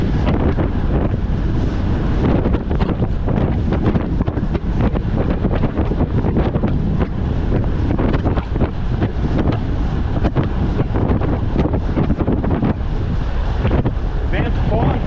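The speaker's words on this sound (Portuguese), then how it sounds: "Vento contra." A headwind roars on a microphone while cycling during cadence training, a loud, steady buffeting with constant gusty rumble throughout.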